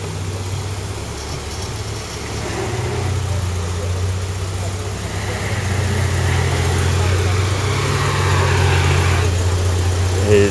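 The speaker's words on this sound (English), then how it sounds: "all I can hear is wheel spinning" A bus stuck in mud after a landslide spins its wheels, a steady mid-low engine drone that swells and strains louder over several seconds, heard from a short distance with faint background noise.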